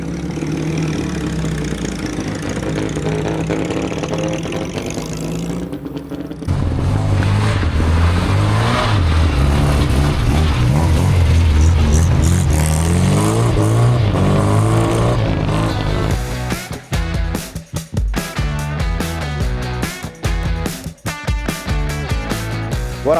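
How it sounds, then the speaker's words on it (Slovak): A Trabant's two-stroke engine idles roughly, then revs hard and loud at a classic car event on snow and ice, with sharp throttle blips and choppy bursts toward the end. "A ešte pridáme aj zvuk Trabyho, čo poviete?"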